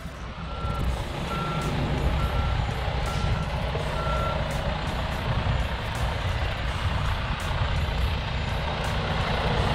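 A dump truck hauling clear stone backs up on an excavation site, its reverse alarm beeping in a steady repeating rhythm over the loud, continuous diesel engine rumble.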